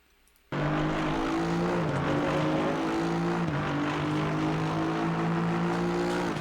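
Aston Martin GT race car engine in Assetto Corsa Competizione at COTA, starting abruptly and holding a loud, steady droning roar with brief pitch dips between gears, close and continuous throughout.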